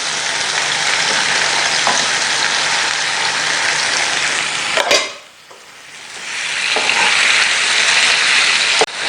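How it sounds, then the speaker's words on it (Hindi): Tomatoes hit two spoons of hot oil seasoned with crushed black pepper, setting off a loud, continuous crackling sizzle that briefly dies down midway, then builds back to a strong steady fry. "तो खाने के 2 चम्मच बिस्मिल्लाह हमने ऑयल शामिल किया। इसमें टमाटर शामिल करने हैं।"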